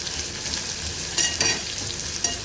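Chopped onions fry in a pan with a close, steady sizzling hiss and a few soft stirring scrapes.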